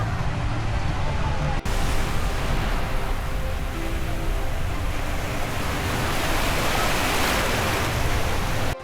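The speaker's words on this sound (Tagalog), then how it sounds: "Oh, at ang lakas ng alon." Strong ocean waves break on a beach near Nasugbu, a loud, steady wash of surf noise that rolls on continuously and close by with no pause.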